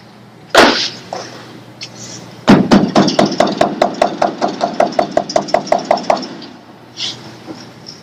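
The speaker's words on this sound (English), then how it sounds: "I can get my hammer and tap that a bit." A hammer taps down a high spot on a Grumman aircraft wing, striking about fifteen quick, even metallic knocks in a steady rhythm after a couple of isolated hits, close and clear.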